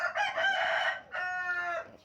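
A breeding rooster crows loudly and close by, a single drawn-out call in two parts, with no talking around it.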